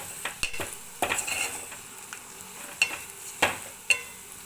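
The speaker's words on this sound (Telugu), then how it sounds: "టూ స్పూన్స్ కారము one and half spoon salt వేసి బాగా కలపండి" Bitter gourd fry being mixed with chili powder and salt in a pan: soft stirring and scraping broken by a handful of sharp utensil knocks at uneven intervals, no talk.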